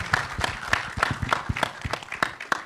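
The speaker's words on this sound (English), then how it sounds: "Huge round of applause for her." An audience at a film trailer launch claps briskly, a dense run of overlapping hand claps at moderate volume with no voices over it.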